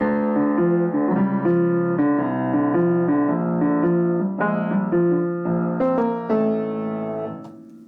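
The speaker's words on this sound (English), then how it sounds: "my piano also makes low sounds" Low, full piano notes played one after another in a slow sequence, ringing and overlapping before the last note fades out.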